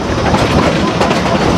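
A Cumbres and Toltec scenic railroad train rolls steadily along the rails, giving a loud, continuous rumble with dense clickety-clack of wheels close by, with no talk over it.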